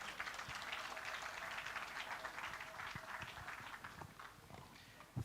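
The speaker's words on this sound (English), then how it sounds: "please make the applause a bit warmer for him" An audience applauds the outgoing Rotary club president at the Rotary Kampala North 37th presidential installation, with steady, dense clapping throughout and a brief louder burst at the very end.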